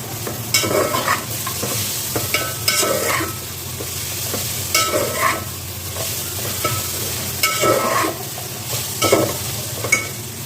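Raisins and peeled almonds are stirred into an Afghani mutton pulao in a pan, with repeated scraping stirs over a continuous close sizzle.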